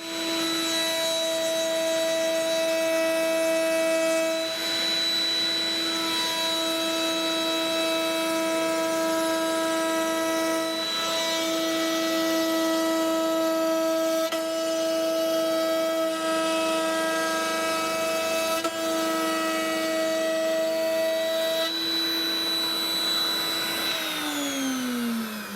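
A router table cutting wood as a piece is pushed along the fence, a loud, continuous high-pitched whine with steady tonal hum, close and unbroken for the whole stretch, with no talking.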